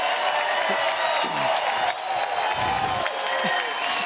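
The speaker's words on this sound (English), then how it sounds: "And wow, is this crowd excited." A crowd at a pro mixed pickleball match applauds and cheers loudly and continuously after a rally, with whoops rising from the stands and a commentator's voice mixed in.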